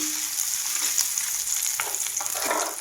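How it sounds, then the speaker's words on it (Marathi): Bay leaves frying in oil over low heat in a home kitchen, giving a continuous close hiss with occasional crackles and light stirring, with no voices. "हे तमालपत्र मी तळूनच घेणार आहे"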